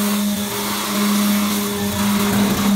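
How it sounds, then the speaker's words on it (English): A router power tool whines continuously at a construction site, a steady mid-pitched motor hum with a constant tone, loud and close, with no voices over it. "naririnig sila yung sounds ng router"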